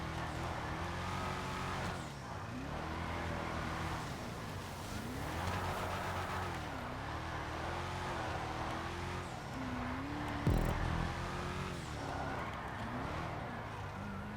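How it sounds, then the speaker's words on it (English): Truck engine in GTA 5 Online revving hard and steadily through repeated rising and falling pitch sweeps as it struggles for speed, with a brief sharp knock or scrape near the end and no talking. "I can't get the speed boost to engage with this truck. You can get some burnout in first gear"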